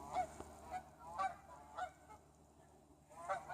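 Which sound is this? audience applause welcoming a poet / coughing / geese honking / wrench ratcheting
geese honking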